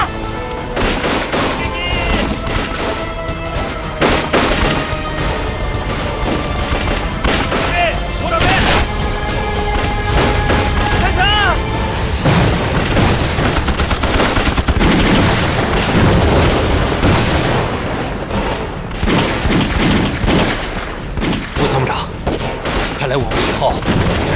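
Gunfire rings out in a war film battle: loud, dense volleys of shots with sharp reports and booms, overlapping with shouted voices.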